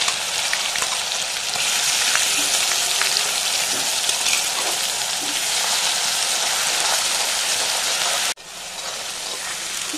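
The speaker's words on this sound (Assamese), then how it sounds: "ইয়াত এতিয়া পিঁয়াজ আৰু নহৰু পেষ্টখিনি দি দিলোঁ" Onion and garlic paste frying in oil with cumin seeds, a loud, dense, rain-like sizzle held close and steady, briefly cutting off near the end before resuming, with no voices.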